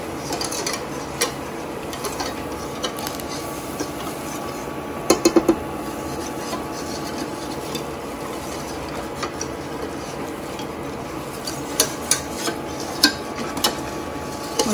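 A utensil stirs butter and flour in a pan to start a sauce, making soft scraping and occasional sharp metallic clinks and taps against the pan over a quiet kitchen background.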